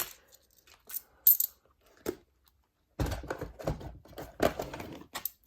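Coins from budget envelopes being handled and dropped, sparse metallic clinks at first, then a denser run of jingling and clattering close by, with no talk.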